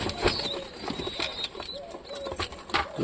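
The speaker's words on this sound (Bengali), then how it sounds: "সব কবুতর এখন চলে আসছে ধীরে ধীরে।" Satin pigeons arriving to feed, soft cooing and occasional wing flaps nearby, intermittent and fairly quiet.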